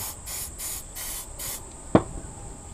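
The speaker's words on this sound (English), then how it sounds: "once I've finished spraying and brushing" An aerosol cleaner sprays onto the pistons of a Yamaha 50HP four-stroke outboard engine in several short hissing bursts, close and fairly loud, followed by a single sharp knock.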